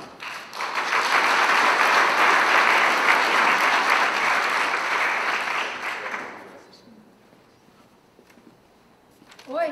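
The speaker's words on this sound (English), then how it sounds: "Please continue your applause." An audience applauds loudly at a synagogue sanctuary dedication, a dense burst of clapping that lasts about six seconds before fading to quiet, followed by a brief hint of a voice at the end.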